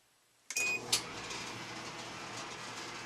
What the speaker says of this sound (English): Just plug the dryer back in, turn the power on,